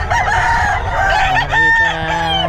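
Roosters crowing loudly and close among many chickens at a busy poultry gathering in Bocaue, with several overlapping crows ringing out over a constant clucking, crowded background.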